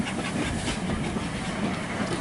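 A model railway Terrier tank locomotive runs along the track with a steady, close rolling rumble and faint clicking, continuous and without voices.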